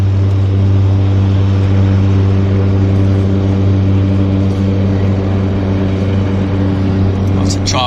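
A de Havilland Otter floatplane idles loudly and steadily at a harbour floatbase dock, its radial engine drone constant and close throughout, with a brief faint rattle near the end.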